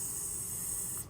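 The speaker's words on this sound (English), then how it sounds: "we're gonna do all of that using this setting spray" A bottle of Juvia's Place setting spray mists in one continuous, close, soft hiss that stops abruptly just before the end.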